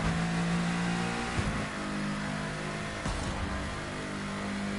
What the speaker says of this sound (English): I feel so good to be driving on the Citroën hypercar again